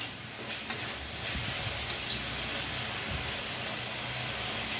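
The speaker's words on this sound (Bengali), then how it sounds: "দেওয়ার পর এবার আমি এটাকে ভাজা করছি, একটু নেড়ে চেড়ে নিচ্ছি" Chopped tomato salted and frying in a pan while being stirred, a soft, steady sizzle and hiss with a few light scraping knocks from the stirring, no talk.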